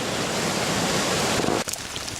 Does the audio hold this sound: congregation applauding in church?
no